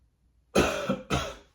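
Two short, close coughs in quick succession, done as part of a deep-breathing exercise, in an otherwise quiet room.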